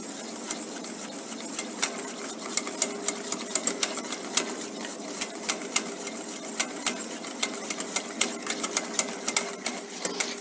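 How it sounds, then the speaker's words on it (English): A whisk beats oil and egg into mayonnaise in a practical kitchen class, giving a fast, steady run of light metallic clicks and scrapes against the bowl, close and continuous with no talk. "Continue whisking."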